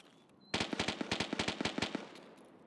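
A rapid burst of automatic gunfire rings out in the video game Escape from Tarkov, about a dozen sharp, loud cracks in quick rhythm that then stop, with no talk over them.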